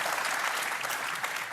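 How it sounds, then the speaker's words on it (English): Dense, steady applause from a crowd at a Tipperary versus Cork hurling event, continuous and loud throughout with no gaps. "Give me a round of applause there"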